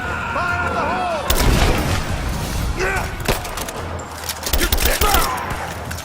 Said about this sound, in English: Throwing a grenade! Fire in the hole!